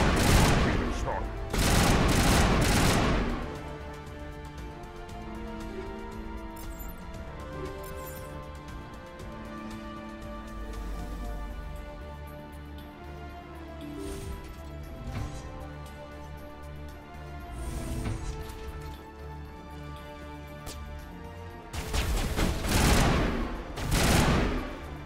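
Gunfire erupts in the sci-fi shooter Mass Effect Legendary Edition, with loud bursts of rapid shots at the start and again near the end, separated by a quieter stretch of game music and ambience.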